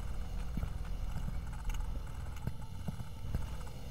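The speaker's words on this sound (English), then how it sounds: "I hear footsteps" Footsteps in the video game Cultic sound as irregular, hollow knocks over a low rumbling ambience, several close thuds spread across the moment.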